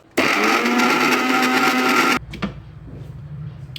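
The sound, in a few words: mixer grinder blending biscuit cake batter with milk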